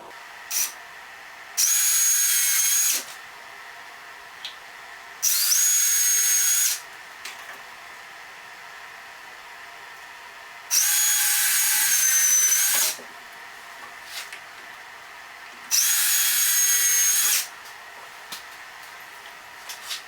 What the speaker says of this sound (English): Just drill some pilot holes.